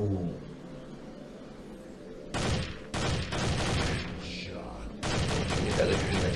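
Gunfire aimed at zombies in the Dead Target shooting game, loud close bursts of rapid shots in several separate volleys, with brief pauses between them.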